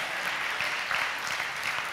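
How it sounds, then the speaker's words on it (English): A handful of people clap in a church congregation, a light, scattered patter of hands that stays at an even level for a couple of seconds. "So 3 people are clapping."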